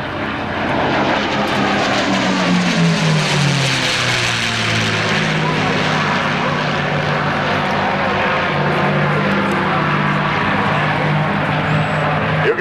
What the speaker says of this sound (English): You can hear those engines really start to work as they come over the top.